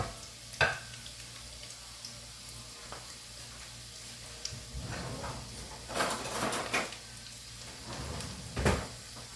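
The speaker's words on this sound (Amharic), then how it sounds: "ነጭ ሽንኩርት ጨመርኩኝ። እሷን ትንሽ በሰል አረግና" Garlic frying in a pan with green peas and chilli: a soft sizzle under scattered stirring clatters and a few louder knocks of a spoon against the pan, close by, with no speech.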